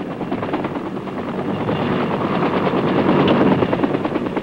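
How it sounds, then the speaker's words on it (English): A military helicopter flies toward a target area in a Vietnam-era training setting, its steady rotor and engine drone loud and continuous, swelling slightly as it goes on. "helicopter team heads toward the target area"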